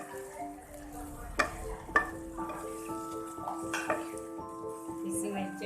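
Minced keema frying in a pan for a keema aloo salan, a soft steady sizzle with a couple of sharp utensil clinks and stirring scrapes, while someone talks over it.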